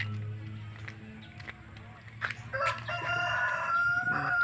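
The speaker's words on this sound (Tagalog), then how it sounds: "Manok talaga ang maririnig." A rooster crows loudly partway through, with more chickens calling and clucking nearby over a low steady background hum, in the countryside.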